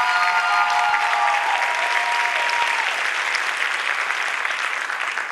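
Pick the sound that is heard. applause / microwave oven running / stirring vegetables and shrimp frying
applause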